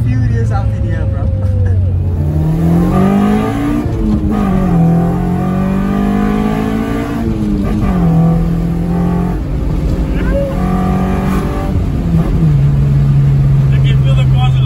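A Toyota Corolla with a built 7AFE engine on individual throttle bodies drives hard, its loud engine note rising and falling through repeated revs and gear changes, heard from inside the car.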